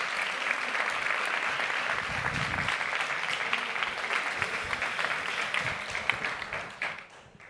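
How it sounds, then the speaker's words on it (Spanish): An audience applauds a scientist introduced at a public science talk, a dense, steady crowd clapping that fills the room and then fades out near the end. "os pido un fortísimo aplauso"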